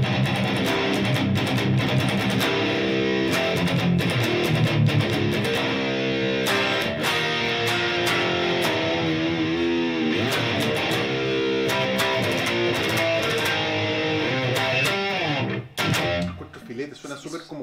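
A Godin electric guitar played through a distortion effect gives a thick, compressed, sustained tone with dense chords that ring steadily for most of the stretch, then cut off abruptly near the end.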